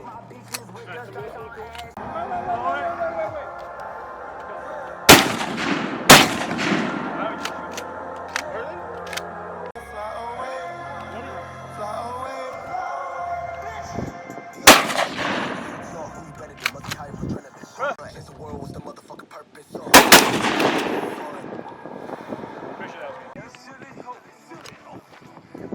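Gunfire at a shooting range: a few loud, sharp shots spaced well apart, heard alongside people talking nearby.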